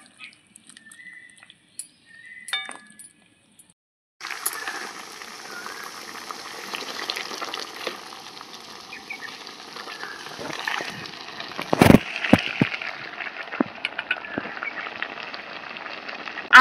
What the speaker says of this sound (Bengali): আমগুলো দিয়ে একটু জাল দিয়ে নেব।